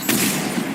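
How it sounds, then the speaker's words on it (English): A mounted gun fires a rapid automatic burst in the Mass Effect 3 game, loud and continuous for under a second, with a dense rattling roar. "Enemy on the mounted gun."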